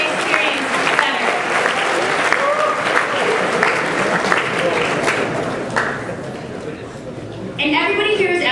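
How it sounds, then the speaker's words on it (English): A large audience at a student state convention claps loudly and steadily, the applause dipping briefly before rising again, with speech mixed in over it. "Let's give a massive round of applause to these leaders"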